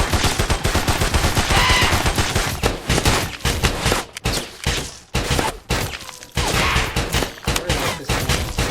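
Custom gun sounds from a VR shooter video game prototype fire in rapid, loud bursts of close shots with brief pauses, dense and continuous across the stretch.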